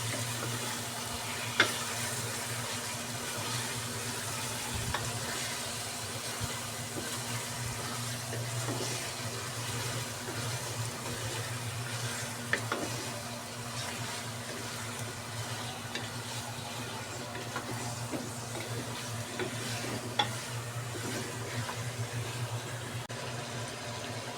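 A quantity of mutton browning in spiced masala for a karahi, giving a soft continuous sizzle with occasional faint clinks of the stirring spoon against the pan, with a low steady hum underneath.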